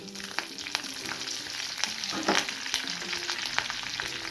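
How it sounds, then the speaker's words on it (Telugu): Mustard seeds crackle and pop sharply in hot oil while tempering for a raw banana curry, rapid irregular spluttering over a continuous sizzle, close up and without voices. "ఆవాలు చిప్పట్లాడాలండి"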